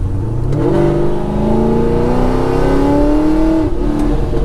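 An 800 HP Camaro engine revs up and accelerates hard, its pitch climbing steadily in a loud, continuous roar close by.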